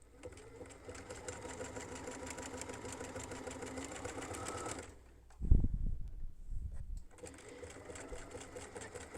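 A sewing machine stitches a small bag with a fast, steady whirring hum. It stops for a moment with a few soft thumps, then starts running again.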